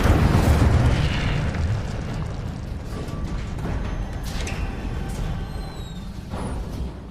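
The Incendio fire spell in Hogwarts Legacy goes off with a loud fiery burst and deep whoosh, then a crackling rumble that fades over several seconds and is punctuated by small sparkling pops.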